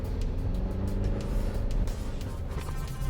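A 4WD pushes onto soft beach sand dunes at Stockton Beach, the engine droning loud and steady under throttle with a constant low rumble throughout.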